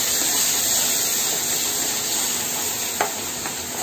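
Onion paste stirred and fried for Amritsari chole, a loud dense hissing sizzle close up, with a brief scrape of the spoon near the end and no speech.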